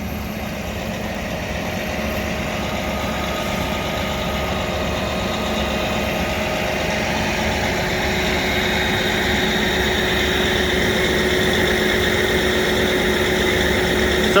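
A tractor engine idles steadily and close by at a constant, even pitch while the implement wings fold up, with no talk over the continuous rumble.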